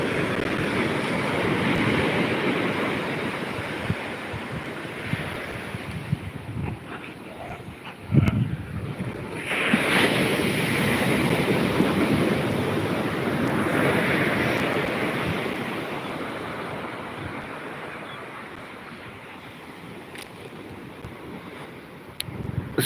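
Sea waves and wind at the coast at Colachel: a steady, loud roar of surf and wind buffeting the microphone, with waves swelling and easing throughout and no voices.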